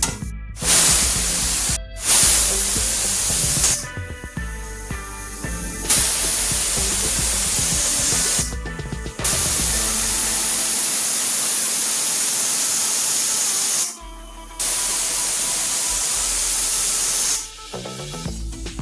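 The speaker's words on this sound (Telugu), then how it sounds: "బ్లాక్ సాల్ట్ ఇంకా ఆమ్చూర్ పౌడర్తోనే దీన్ని ఇప్పుడు గ్రైండ్ చేయబోతున్నాను" A mixer grinder whirs through chaat spices with black salt and amchur powder in a home kitchen. It runs in loud, hissing bursts of several seconds each, broken by short pauses, then stops near the end.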